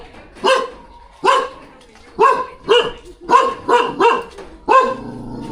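A dog barks repeatedly at a house with a sliding door, seven sharp loud barks in uneven bursts close by, with brief gaps of quiet between them.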